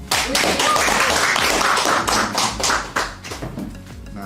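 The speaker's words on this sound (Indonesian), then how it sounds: "Tepuk tangan." A group claps in quick, dense applause for about four seconds during an Indonesian podcast with female cadets. The clapping is loud and close, then tapers slightly at the end.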